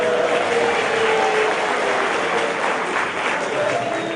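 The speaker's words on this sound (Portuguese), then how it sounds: "Uma salva de palmas para a turma aqui" An audience at an educators' creativity lecture applauds the group at the front, a continuous wash of clapping from many hands with no voices on top.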